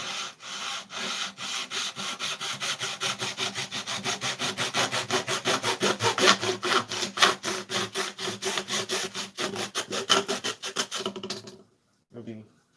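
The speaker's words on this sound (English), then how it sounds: "Oh wait, I can use a handsaw." A handsaw cuts through wood in brisk, regular back-and-forth strokes, each rasping pass clear and close, keeping a steady rhythm for about eleven seconds before stopping abruptly.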